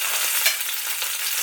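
A homemade burger patty sizzles steadily in a hot frying pan, a close, even hiss with a faint crackle and no talking.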